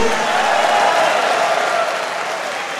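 A church congregation breaks into loud applause and cheering, a dense wash of clapping and voices that stays strong before easing off slightly toward the end.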